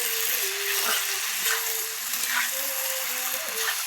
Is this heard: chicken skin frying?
yes